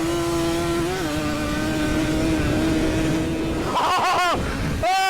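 A car launches off the start of the Malle Mile beach heat race, its engine revving hard with rising pitch sweeps and gear-change dips, loud and close, with brief laughter or exclamations near the end.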